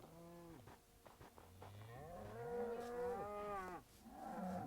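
Several cows moo in long, drawn-out calls, one after another and sometimes overlapping, fairly close and with no talking.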